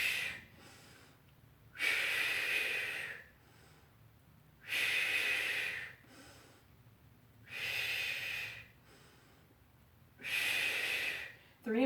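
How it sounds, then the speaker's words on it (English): Slow, deliberate breaths during a Pilates session, four long airy exhalations spaced evenly a few seconds apart with quieter inhales between, close to the microphone and without talking. "And inhale. And exhale."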